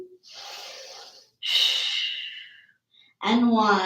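A deep yoga exhale, long breathy rushes of air in two drawn-out waves, close to the mic and fairly loud, followed by a brief voiced sound from the instructor.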